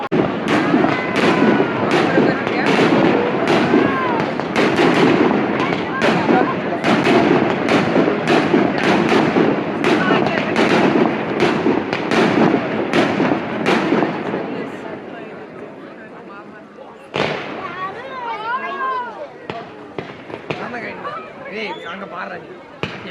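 Diwali fireworks burst over Frankfurt, Germany, in a dense, loud barrage of cracks and thumps lasting over fifteen seconds, then thin to scattered bangs and crackles, with people chattering faintly in the background.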